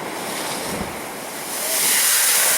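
Ocean surf surges through a blowhole on a granite beach in Tasmania, a steady windy roar of churning water that swells louder toward the end, with no voices.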